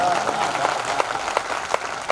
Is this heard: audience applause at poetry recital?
yes